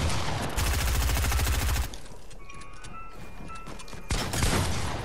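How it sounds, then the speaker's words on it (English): Fortnite gunfire in rapid automatic bursts, loud and dense at first, then a quieter stretch with scattered game effects before another heavy volley. "All right, you shooting down."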